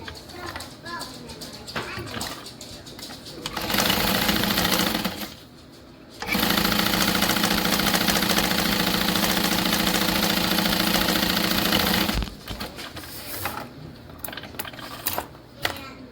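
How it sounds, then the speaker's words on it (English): A sewing machine stitches the bottom panel of a Monroe handbag lining to the main panel with a half-inch seam, running in two long, steady, loud bursts with quieter handling noise before and after. "stitch the bottom panel to the other main panel"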